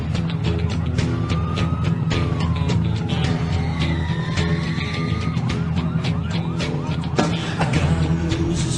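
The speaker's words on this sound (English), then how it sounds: "They got the sirens." Wailing sirens rise and fall over a driving music track with heavy drums, loud and continuous, an emergency-siren effect woven into a WWE wrestling entrance theme.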